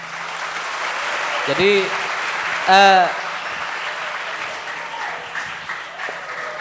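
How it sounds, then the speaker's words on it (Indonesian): Audience applause at an Indonesian santri alumni talk show, a steady broadband clapping wash running throughout the clip, with brief spoken words rising over it twice. "Tepuk tangan bagi dia semua."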